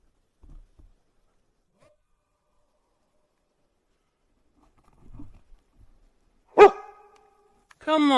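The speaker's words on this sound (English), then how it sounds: "Why are you barking?" A dog in the woods near an old ruined hut gives two sharp, close barks, the second drawn out, after a long stretch of near silence broken only by faint rustles and footsteps.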